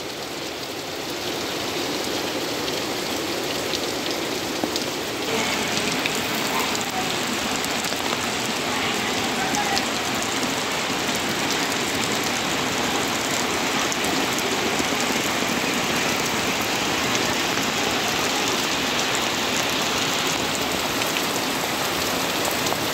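Heavy first monsoon rain pours down in a dense, unbroken roar of drops striking surfaces, loud and steady throughout with no voices.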